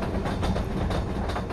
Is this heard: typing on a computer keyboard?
no